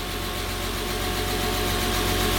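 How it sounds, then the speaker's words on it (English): A 986 Porsche Boxster with a swapped engine idles steadily, a close, even mechanical drone with a faint ticking edge and no voices. "That motor sounds reasonable."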